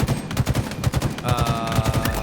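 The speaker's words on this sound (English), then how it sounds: "In a hail of gunfire." Rapid bursts of gunfire from the video game Halo Infinite crackle in a dense, continuous volley, with a faint tonal whine joining partway through.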